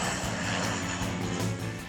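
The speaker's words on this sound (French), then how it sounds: "À Saint-Jean, les avions qui décollent ou atterrissent font partie de l'animation" A propeller airplane roars low overhead while taking off or landing beside Saint-Jean beach on Saint-Barthélemy, a loud, steady engine drone filling the short stretch.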